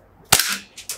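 A Desert Eagle CO2 air pistol fires a single sharp, loud shot at close range, its crack trailing into a short hiss, followed by a brief mechanical click and a second burst of hiss.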